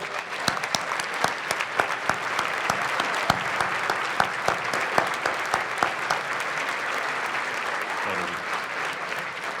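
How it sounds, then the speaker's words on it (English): A large audience applauds standing K-12 and post-secondary teachers and administrators at a special presentation event, with dense, steady clapping sustained for about ten seconds and sharp individual claps popping out of the wash. "Let's give everyone a round of applause."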